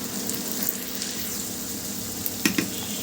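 Shrimp frying with bottle gourd leaves in a pan, a steady close sizzle with faint stirring clicks and a couple of sharper scrapes near the end, no voices.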